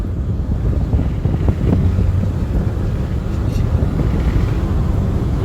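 Old car with a low differential cruising at about 50 mph, a steady low hum and road rumble with wind buffeting throughout, no voices.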